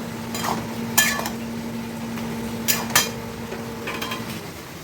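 Ghee and garam masala powder are mixed in a pan in a home kitchen for a Bengali dish: a few sharp scraping clinks of a utensil against metal, spaced apart, over a steady low hum.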